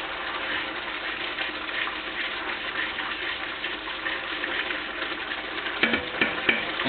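Canned tomatoes being stirred in a pot for a tomato sauce, giving a steady wet sloshing and churning with a few sharper scrapes of the spoon near the end.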